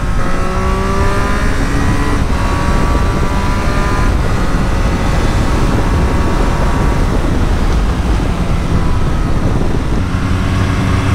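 Triumph Street Triple 765RS motorcycle revving hard through quickshifter gear changes, a loud, continuous close-up engine howl with rising pitch sweeps and brief shift breaks, Showa front and Öhlins rear suspension.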